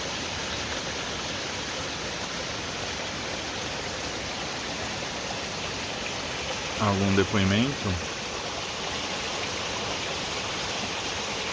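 Steady rain falls at a waterfall in Alto Cariri National Park, Bahia, a continuous loud broadband wash of rushing water, briefly joined by a voice speaking midway.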